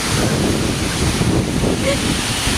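Strong typhoon wind roars continuously during Signal No. 2 conditions from typhoon Enteng in San Agustin, Isabela, a loud, buffeting broadband rush with gust-driven rumble across the whole span.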